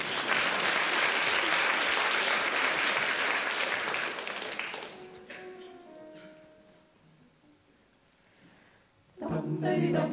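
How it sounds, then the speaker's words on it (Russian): A concert audience applauds loudly and steadily for about five seconds before a choir performance, then the clapping thins and fades to near silence before a fresh burst at the end. "Вы можете сразу аплодировать."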